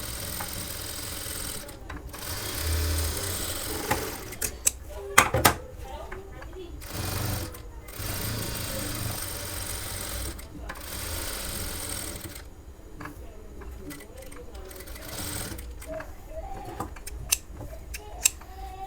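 A sewing machine stitches a blouse at a tailoring table in intermittent close bursts with mechanical clatter and brief handling knocks, while someone talks throughout.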